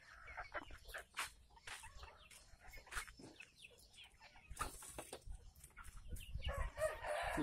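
Chickens cluck and a rooster crows nearby as they are being fed in an enclosure, with bursts of fowl calls and scattered rustling throughout.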